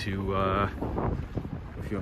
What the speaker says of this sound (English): So it's a bit windy right now.